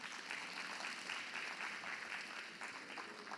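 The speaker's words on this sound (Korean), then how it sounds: "그게 맞으면 박수 부탁합니다" Steady applause from a lecture audience at a Korean legal-AI special talk, dense clapping holding at an even level for a few seconds with no voices over it, fairly quiet and slightly distant.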